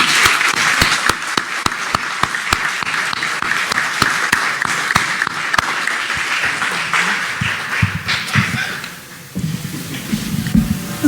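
An audience applauds a novelist at the launch of the novel "El pelícano verde": steady, dense clapping that carries on for several seconds, then thins out and fades near the end.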